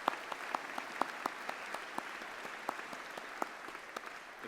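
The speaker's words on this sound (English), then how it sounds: "Another round of applause." Audience clapping at a university business school graduation ceremony, a steady dense patter of many hands with sharp individual claps standing out, moderately distant and continuous throughout.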